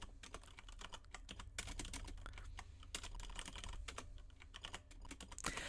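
Fingers type on an AZERTY French computer keyboard in quick, uneven bursts of close, crisp key clicks, heard alone and quietly with brief pauses between runs.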